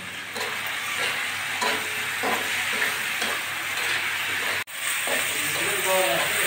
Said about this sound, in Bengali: কয়েক টুকরো শুকনো লঙ্কা দিয়ে দিচ্ছি